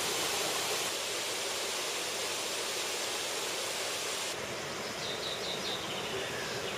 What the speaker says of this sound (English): There are 5 main waterfalls at this point, dropping 30 metres over sandstone and slate.